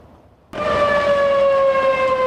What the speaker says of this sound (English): The sirens have just sounded again in Boulder